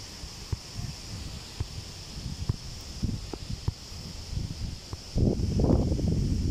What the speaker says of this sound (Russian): Ух, там ветрюга.